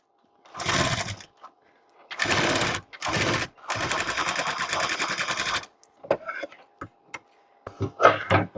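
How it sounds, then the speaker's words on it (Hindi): A sewing machine stitches small tucks on a blouse with short stitch length, running in several bursts separated by pauses, close and clear, with a few light clicks and handling noises near the end. "तो देखो, अब सिलाई लगा के मैं आपके लिए दिखा देती हूँ।"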